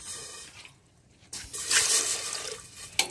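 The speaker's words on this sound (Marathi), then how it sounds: "आता त्यामध्ये आपण पाणी टाकून घेऊया" Water poured from a jug into a pressure cooker while cooking dried green peas, a splashing, rushing pour that swells after a brief quiet and runs steadily, close and fairly loud.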